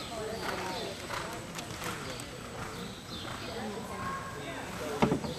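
Horse hooves clip-clopping at a hunter horse show, a loose rhythmic thudding of several strides at moderate distance, with people talking over it.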